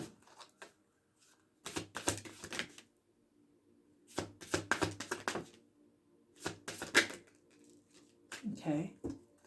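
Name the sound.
shuffling tarot cards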